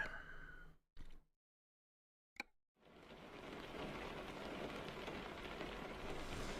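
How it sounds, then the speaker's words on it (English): Rain in American Truck Simulator makes a steady hiss that drops out briefly, then returns as a dense, even patter, with no talking. "didn't want to start in the rain"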